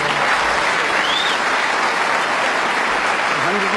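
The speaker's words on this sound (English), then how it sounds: "The crowd always love a century here at the Crucible, Dennis." Large theatre audience at the Crucible in Sheffield applauding a snooker century break during the 2010 World Championship, a steady, dense wash of clapping that holds throughout at full strength.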